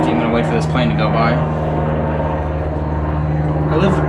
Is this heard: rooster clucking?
no